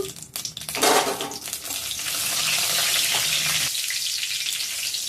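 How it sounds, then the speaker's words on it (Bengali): Whole spices — bay leaf, dried red chilli, cardamom, cinnamon and cloves — hit hot oil in a kadai with a loud burst of crackling, then settle into a steady, close sizzle that drops off abruptly near the end. "কড়াই গরম হয়ে গেছে তেল দিয়ে দিলাম বন্ধুরা তেজপাতা দিয়ে দিলাম শুকনো লঙ্কা গোটা গরম মশলা এলাচ দারচিনি দিয়ে দিলাম লবঙ্গ"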